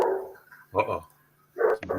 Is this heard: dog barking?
yes